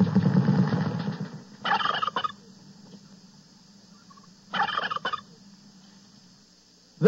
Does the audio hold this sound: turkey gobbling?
yes